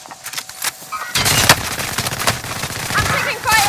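Automatic gunfire in Call of Duty: Modern Warfare, a loud, close burst of rapid shots that sets in after a quieter opening and rattles on with scattered bangs, under game radio chatter.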